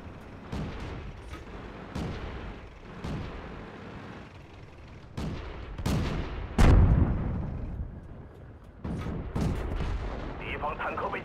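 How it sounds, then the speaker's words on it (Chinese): Heavy tank cannon fire in a war video game: a series of loud, booming shots spaced a second or two apart, ending in a big blast as an enemy tank is destroyed, with radio-style voice lines over the action. "敌方坦克被击毁"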